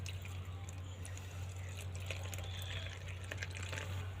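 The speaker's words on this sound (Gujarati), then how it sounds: "એક ગ્લાસ નોર્મલ પાણી એની અંદર રેડી દેવાનું છે" A glass of plain water pours into a container holding broken-up shampoo for a hydrogen gas experiment, giving a soft, continuous splashing trickle over a steady low hum.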